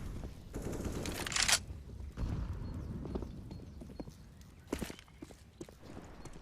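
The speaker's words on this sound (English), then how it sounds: "Heard the steps, or heard the bullets." Rapid footsteps patter in a Counter-Strike match, mixed with bursts of gunfire, including a loud spray near the start, and a quieter burst later, all moderately distant with no talking.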